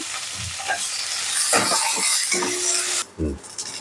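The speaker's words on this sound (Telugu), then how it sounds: "వెల్లుల్లిపాయలు ఉల్లిపాయలు వేపి కొద్దిగా ఫ్రై చేసుకోవాలి" Garlic and onions fry in a pan with curry leaves, a loud close sizzle with scraping stirs and clinks of a utensil against the pan, dropping off sharply near the end.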